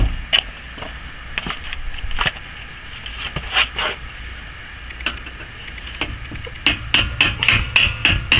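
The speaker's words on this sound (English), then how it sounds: "I'll get a screwdriver and push that out." A screwdriver taps against a rear shock bolt on a 2004 Chrysler Town and Country to drive it out. Sharp metallic knocks come irregularly at first, then in a faster close-up cluster near the end.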